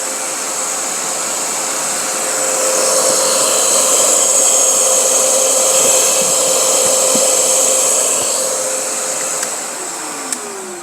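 A Bosch GAS vacuum cleaner switches on and spins up to a loud, steady high-pitched whine and roar that holds before easing slightly at the end.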